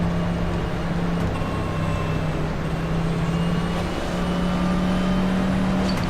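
Race car engine in a dirt oval racing video game at Bristol, a steady loud drone with sustained engine tones that shift pitch slightly, continuous throughout with no talk.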